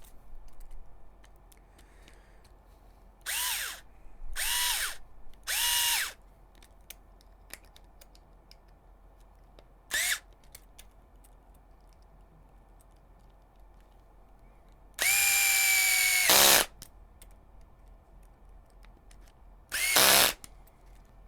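A power drill drives a 10 mm screw into an HPI Venture SBK RC car drivetrain, heard as several short, close whirring bursts separated by quiet pauses, with one longer run near the end.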